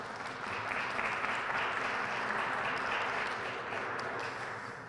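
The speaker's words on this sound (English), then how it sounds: "Now you can clap" Attendees at a Jersey City commemoration applaud after officials including an FBI agent are introduced, a steady moderately distant clapping that holds evenly for the whole stretch and eases slightly at the end.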